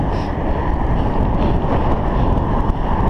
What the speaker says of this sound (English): goodness, it's windy today.